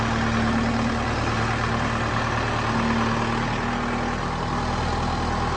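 A tractor churns through deep, muddy, water-filled ruts in a maple sugarbush, its engine a steady, loud drone with a constant low hum throughout and no voices.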